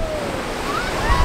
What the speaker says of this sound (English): hopefully there's not too much wind and you guys can hear us because it is really windy out here